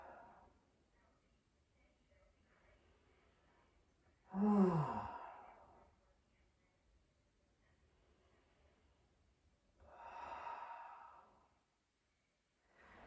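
Slow, deep breaths during a floor exercise lying face down with the forehead resting and arms along the sides, two long exhales about six seconds apart, soft and close with quiet room tone between.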